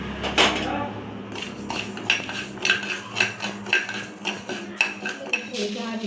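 Raw rice dry-roasted in a pan, stirred with a metal spoon that scrapes and clinks against the pan in a quick irregular rhythm, close and alone.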